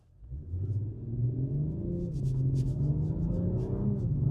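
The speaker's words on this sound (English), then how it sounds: "And now you get to hear that little V6." A V6 car engine rumbles and rises in pitch as it accelerates in Sport mode, a steady deep growl building up close by with no one talking.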